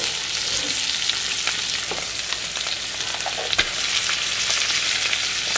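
Rice and garlic powder fry in a hot pan, giving a steady, close, loud sizzle with scattered crackles and stirring scrapes throughout and no voices.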